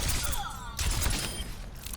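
Rapid bursts of Genji's regular weapon fire in Overwatch 2, whooshing projectile throws layered over continuous loud game noise and music.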